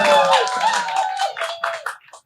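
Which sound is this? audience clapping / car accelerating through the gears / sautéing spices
audience clapping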